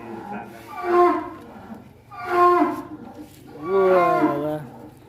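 Giant Madura cattle in a barn give three loud, drawn-out moos, evenly spaced with short pauses between them and low background noise.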